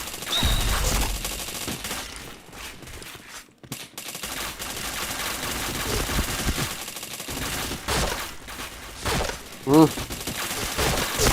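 Rapid gunfire in a shooter video game, bursts of shots scattered across the stretch with a brief quiet gap, under a player's occasional speech.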